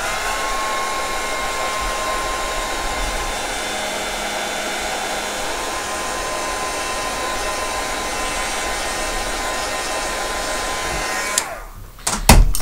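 A hair dryer blows steadily and loudly on a small craft piece, a continuous broadband whoosh with a faint whine, then cuts off near the end with a brief clatter.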